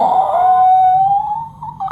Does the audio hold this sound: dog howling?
yes